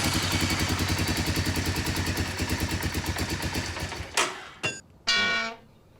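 A 1987 Honda Big Red three-wheeler engine runs with a steady, close mechanical chug for about four seconds, then cuts out and fires in short bursts, with a brief sputter and a final rev before fading.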